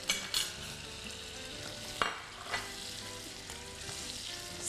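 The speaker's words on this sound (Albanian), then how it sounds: "Do ka urdisim kungujt dhe do t'i skuqim pak." Zucchini fries in a little oil in a pan with a soft, continuous crackling sizzle, broken by a few sharp clicks and scrapes of stirring; quiet and close, with no talk.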